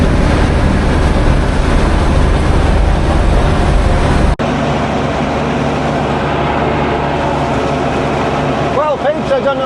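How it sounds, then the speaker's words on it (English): A tractor topping rushes in a field on a fine day, its engine a loud, steady low rumble throughout with a brief cut partway, a voice talking faintly under the drone near the end. "I'm busy topping these fields."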